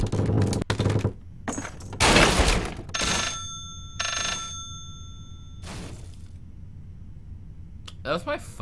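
A phone rings during a live stream of the horror game Layers of Fear, its short ringing tones mixed among loud, abrupt bursts of game noise.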